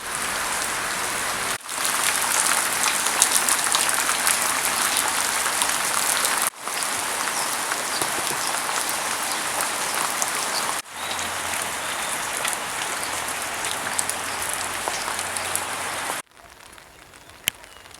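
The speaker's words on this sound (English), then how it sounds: "Rain was pouring down" Heavy rain pours down steadily near a small farming village in Bhutan, a dense, continuous hiss. Brief breaks interrupt it, and it sounds quieter near the end.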